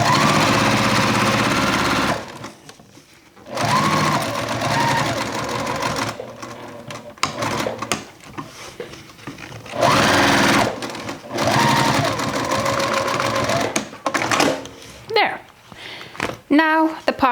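A sewing machine stitches a crossbody bag in several bursts of loud, rapid whirring separated by short pauses, with some handling noise between runs.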